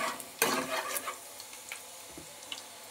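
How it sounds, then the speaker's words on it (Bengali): Chopped garlic dropped into hot oil in a home kitchen, giving a sharp initial sizzle that settles into a steady crackling fry with light stirring clicks. "রসুন কুচিটা আমি সবার প্রথমে দিয়ে দিচ্ছি তেলের ওপরে"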